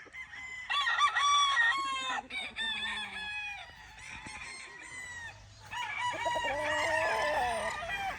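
Gamefowl stags and roosters crow one after another in a farmyard, several birds overlapping in loud, harmonic calls, with occasional clucks and no talking.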